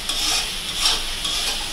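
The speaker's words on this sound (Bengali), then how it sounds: "দেখুন কি সুন্দরভাবে কষিয়ে নিয়েছি।" Prawns sizzle and fry in a pan while being stirred, a steady close crackle with brief scraping swells and no voices.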